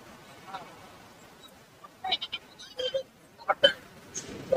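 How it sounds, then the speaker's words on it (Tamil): At a busy goat market in Kunnathur, Tirupur, goats and young kids let out scattered short bleats, some close and some farther off, over crowd murmur and talk. "அது போக வளர்ப்புக்கான ஆட்டுக்குட்டிகள்"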